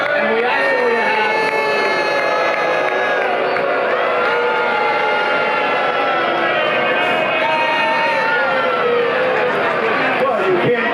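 A large crowd at a downtown Miami scavenger hunt event cheers and whoops loudly and steadily, a dense wall of overlapping voices with shouts rising throughout.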